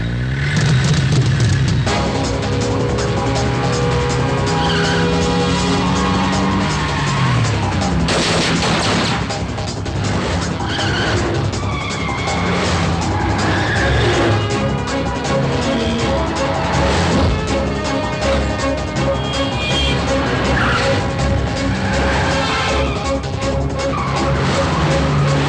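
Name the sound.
car driving fast with skidding tires in a movie chase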